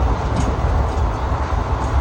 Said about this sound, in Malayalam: ഞങ്ങൾ നമ്മുടെ അടുത്ത ട്രെയിൻ കയറി